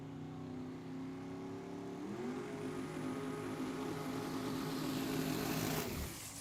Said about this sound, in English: Twin turbo Hemi. Spins those tires, makes them smoke, doesn't make a lot of sound.